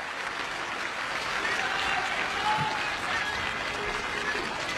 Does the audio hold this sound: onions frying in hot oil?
no